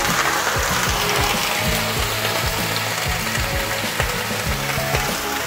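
Chopped Malabar spinach stalks frying in a pan, giving a loud continuous sizzle with scraping, clicking stirring noises throughout.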